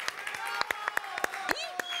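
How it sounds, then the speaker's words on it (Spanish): Children's audience at a magic balloon show clapping along in a sharp, uneven rhythm, close and moderately loud, with excited voices and shouts mixed in. "Palmas, aplaudo."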